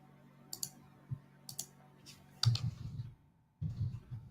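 Keys clicking on a computer keyboard as a password is entered, a handful of light taps at first, then denser bursts of clicking with gaps of quiet.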